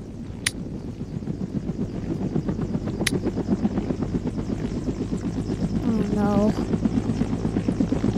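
A helicopter's rotor thuds in a steady, rapid chop under a droning engine hum, loud and continuous, with a couple of sharp clicks and a brief rising whine near the end.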